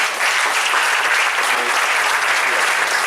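Steady, dense applause from a live audience clapping for Mr. Lee after his testimony at a program, loud and continuous throughout.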